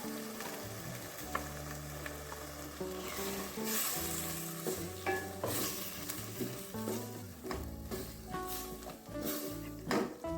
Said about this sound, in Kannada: ನಾವೀಗ ರುಬ್ಕೊಂಡಿರುವಂಥ ಮಸಾಲೆ ಹಾಕ್ಕೊಳ್ಳೋಣ.